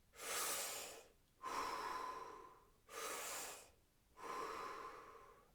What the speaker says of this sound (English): focusing on your breath and like almost kind of hyperventilating. And I'm using my mouth to do breath work.